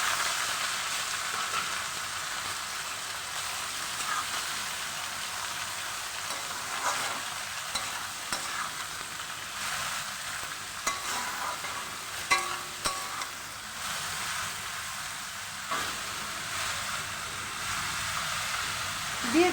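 Vegetables with slit green chillies frying in oil tempered with black cumin, a steady close sizzle with occasional stirring scrapes, no talking.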